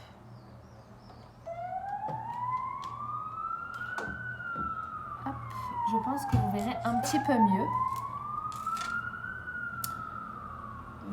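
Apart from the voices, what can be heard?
ambulance siren passing by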